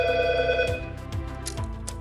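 A telephone ringtone plays through a Bluetooth call-mirroring device that links to any smartphone, a tonal ring with steady harmonics and repeated low thumps, fairly loud and with no talk.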